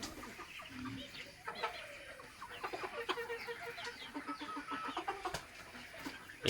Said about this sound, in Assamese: এয়া হৈছে মোৰ লোকেল মুৰ্গীকেইটা